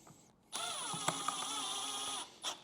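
A power screwdriver drives screws into plastic to mount a speaker in a motorcycle Tour Pak, giving one close, steady whirring run of about two seconds with a brief buzz just after.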